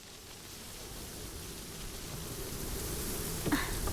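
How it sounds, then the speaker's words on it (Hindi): Strong wind sweeps past before rain, a steady broad rushing hiss that slowly builds in strength, with no speech over it. "कितनी तेज हवा चल रही है, लगता है बारिश होने वाली है।"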